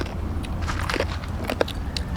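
A person bites into and chews an egg dish made with vegetables, giving soft crunches and crackles close up over a low background hum.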